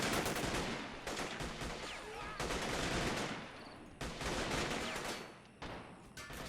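Rapid bursts of pistol and rifle fire crackle through a video game battle in the Red Rising mod, with dense overlapping shots and short pauses, loud and continuous like a hail of bullets.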